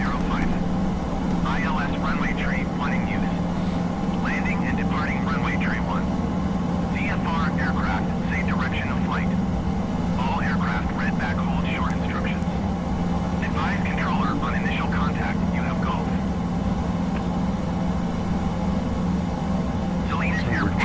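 Latecoere 631 flying boat in the MSFS2020 simulator, descending over a bay with floats and flaps lowered: a steady, loud propeller-engine drone runs throughout, with someone talking over it at intervals.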